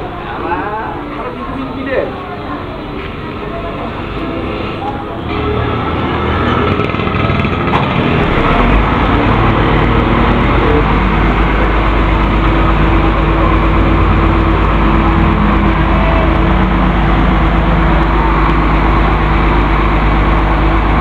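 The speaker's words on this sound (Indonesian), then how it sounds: "menghidupkan mesin untuk melanjutkan perjalanan." A bus engine starts and settles into a loud, steady low rumble, close by and continuous, while the coach stops at a roadside restaurant before continuing toward Medan; voices sound faintly beneath it.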